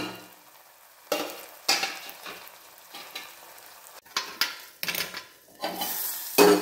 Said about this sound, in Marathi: आता हे मसाले सगळे टाकणार, सगळे मसाले टाकणार।